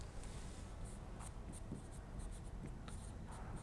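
Chalk or marker writing on a board during a university real analysis lecture on sequences, heard as faint intermittent scratchy strokes over a quiet room hum with no one talking.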